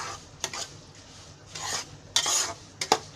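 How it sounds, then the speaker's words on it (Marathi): Cashews stirred through semolina in ghee in a pan for sheera, giving several scraping, rasping strokes of a spoon against the metal, close and fairly loud, alone without talk. "आणि हे काजू हे असं हलवून घ्यायचं, म्हणजे ते रव्याबरोबर थोडे शिजून येतात"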